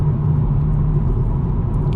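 BMW M140i engine pulling hard under acceleration, a loud, steady low-pitched rumble heard from inside the car without letup over the short stretch.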